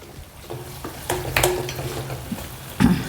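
Onion and ginger paste sautéing and being stirred in a pan, a soft steady sizzle with scraping spoon strokes and a few louder clinks, close and alone.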